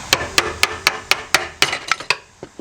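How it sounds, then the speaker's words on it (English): A hammer drives a chisel against the fuel pump module of a Jaguar XK8 that won't start, giving about eleven sharp metallic strikes in a steady, slightly quickening rhythm, close and loud with no talking. "What I'm going to do is get the hammer and the chisel"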